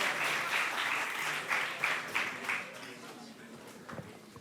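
A crowd at Game Days 2023 welcomes guest speaker Jens Claessens for a character design demo with a round of clapping that is full for about two and a half seconds, then thins out, with voices under it.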